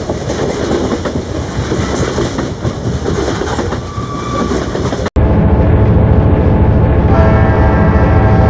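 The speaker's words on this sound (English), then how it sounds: "redirected the freight train so that it is now on a collision course with the passenger train" A freight train rumbles and clacks steadily along the rails, loud and close, then cuts abruptly to another train running on a collision course toward it, with continuous rolling wheel noise and no talk.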